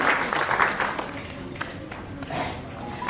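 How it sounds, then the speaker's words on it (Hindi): Audience applause at an Indian Sign Language Day 2022 ceremony, thanking two deaf students; a moderate, steady patter of clapping through the whole stretch, without much build or fade. "एक बार जोरदार तालियों द्वारा इन छात्राओं का धन्यवाद करें"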